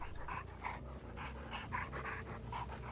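Rhythmic dog panting from a video game killer character, a steady series of quick breathy pants with small whimpers, close and moderately loud over low game background hum.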